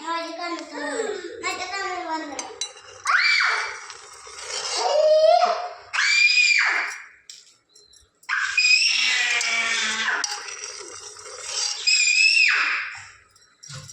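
A voice shrieks and yells indoors at home in loud bursts, broken by short pauses, with some laughter and chatter mixed in close by.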